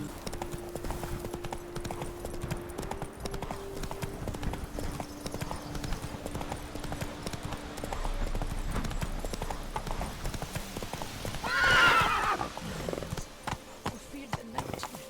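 Horse hooves clip-clop steadily on a road in The Witcher 3, a continuous trotting rhythm with in-game dialogue and a brief whinny-like burst partway through.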